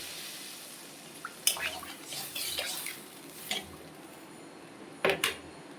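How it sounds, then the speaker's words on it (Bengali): Water goes into a pot of fried potatoes for a rohu fish and potato curry, a brief splashing pour followed by a few clanks of utensils against the pot. "আলু কষানো হয়ে গেছে এখন আমি জল দিয়ে দিলাম"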